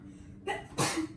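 One person sneezes during a classroom presentation on visual aids, a quick two-part burst with a short inhale then a loud explosive release, close and clear.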